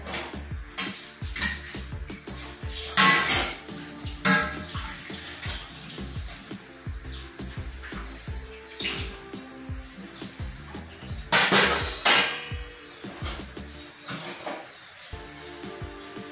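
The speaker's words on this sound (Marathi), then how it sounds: "आता स्वयंपाकाची भांडे घासून घेते मी" Cooking pots and utensils are scrubbed and rinsed under running water. Splashing flows in bursts with clinks of metal, and two louder gushes stand out.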